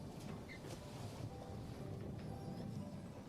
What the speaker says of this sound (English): The sloshing sound of waves crashing against the hull of the ship accompanies the howling winds